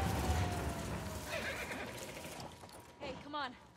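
A horse whinnies with a rising, wavering call near the end, following a stretch of busy background noise and a faint tone in The Last of Us Part II.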